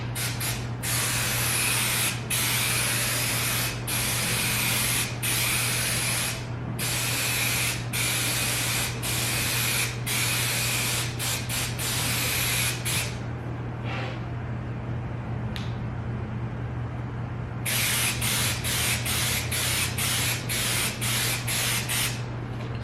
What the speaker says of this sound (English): We're going to spray both pieces.